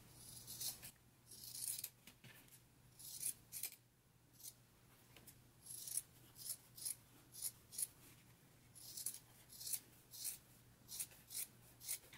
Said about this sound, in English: Now I'm gonna go ahead and trim my seams.